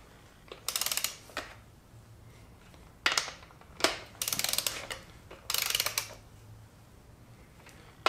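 A torque wrench ratchets as it tightens the 26 ft-lb bearing caps on a Suzuki Samurai 1.3L engine bottom end. Several short, close, gritty bursts of clicking are separated by pauses, with no talking.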